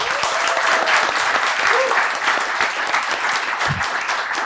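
A convention panel audience at Thought Bubble 2018 breaks into loud, sustained applause for comics writers Leah Moore and John Reppion, with a few voices and whoops over the clapping.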